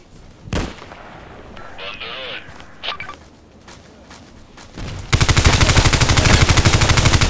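Colt IAR rifle fire in the online shooter Contract Wars: a few scattered shots early on, then a loud, sustained automatic burst of rapid, evenly spaced rounds over the final two seconds, with rock music playing underneath.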